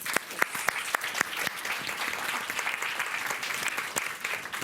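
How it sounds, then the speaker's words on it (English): An audience applauds panelists at the close of a panel on displaced women, sharp claps at the start blending into steady sustained clapping from a moderate crowd, with no speech over it. "Let's give them a very nice round of applause."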